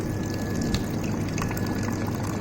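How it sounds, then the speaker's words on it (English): Blue Star Regalus HRRO+UV water purifier in continuous mode dispensing warm water, a steady unbroken stream of running and filling liquid with a faint pump hum underneath, heard alone without talk. "So continuous water will be dispensed."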